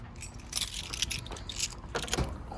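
A car trunk pops open with light metallic clicks and rattles, faint and close, spread across a couple of seconds.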